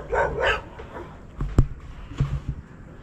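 Dogs barking outdoors, a couple of loud barks at first, then scattered sharper barks and thumps at varying distances, with faint background noise between them.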